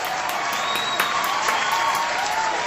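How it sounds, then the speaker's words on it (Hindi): A studio audience at a comedy take on a TV quiz game show applauds steadily in a continuous wash of claps, with a faint rhythmic tone running underneath. "तालियां बजती रहनी चाहिए।"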